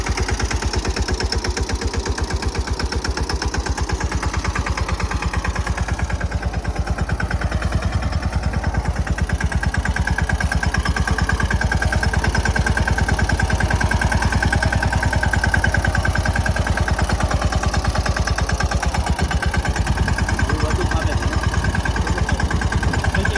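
A tractor engine running steadily at idle on a farm, a continuous low throbbing rumble held at constant loudness close by, without talk over it.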